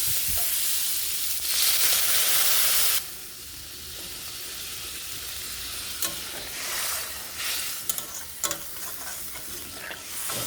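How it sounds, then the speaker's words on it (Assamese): Water poured into a pan of fried raw papaya and potatoes sets off a loud burst of hissing steam that lasts a few seconds, then eases into a softer, steady simmering sizzle with occasional clinks. "এতিয়া মই এড কৰিম পানী।"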